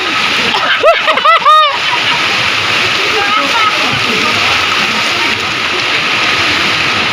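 Steady rushing water at a waterfall where children are swimming, with a brief burst of high chirpy voices near the start and constant splashing texture throughout.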